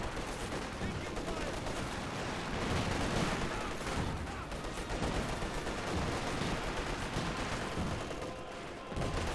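Dense battle gunfire from the video game Company of Heroes 2, with machine-gun bursts, rifle shots and grenade blasts. The shooting rolls on without a break, fairly loud, with faint voices underneath.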